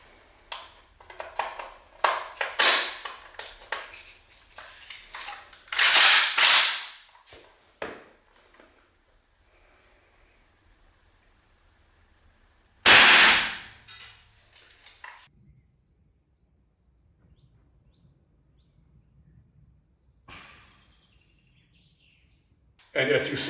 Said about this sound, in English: Now the AK, first with the silencer,